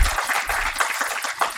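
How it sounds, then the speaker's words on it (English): A short burst of lively clapping from a crowd, dense and steady throughout. "So let's give ourselves a round of applause."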